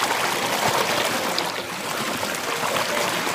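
River water flows continuously along a riverbank, a soft, even rushing and trickling hiss that stays steady throughout, moderately quiet and with no talking.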